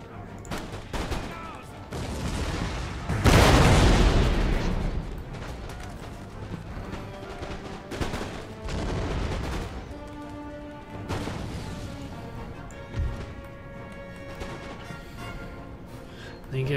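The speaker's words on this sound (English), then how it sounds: "Fire canister at point blank range." Canister shot fired at point-blank range in Empire Total War, one loud booming blast followed by scattered crackling musket fire and dull thuds, with battlefield rumble continuing underneath.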